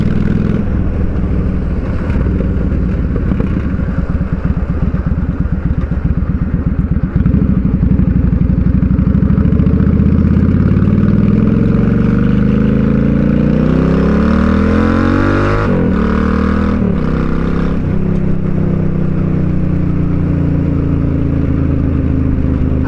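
A Honda Shadow 600 VLX motorcycle engine runs close by, idling with a rumbling beat and then revving up and down through rising and falling pitches, loud and alone.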